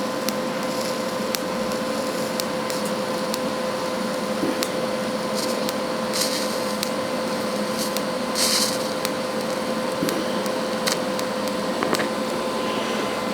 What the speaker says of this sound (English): And I'm TIGging it too because I don't want to have to go back and do any grinding.